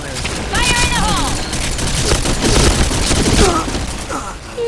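Gunfire in a shooting video game, rapid bursts of shots and booms played loud, with players shouting and talking excitedly over the fire.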